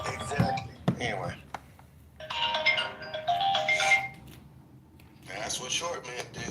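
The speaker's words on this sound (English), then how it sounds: "Thanks for letting us hear your other phone, Jim." A phone ringtone chimes in two sustained bursts separated by a pause, heard over background chatter and a few knocks, fairly close and moderately loud.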